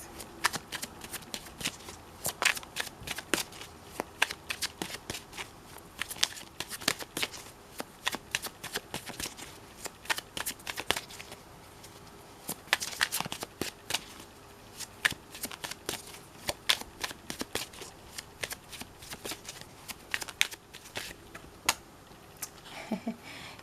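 Tarot cards are shuffled repeatedly in quick riffling bursts with brief pauses between, close and crisp, with no voices.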